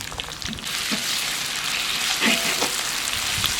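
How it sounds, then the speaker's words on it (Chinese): Fatty pork renders its fat in hot oil, then lean pork is stir-fried with it in plenty of oil; a steady, dense sizzle and crackle runs close and loud throughout, with occasional stirring scrapes and no talk. "先把肥肉先炒，油全部熬出来了"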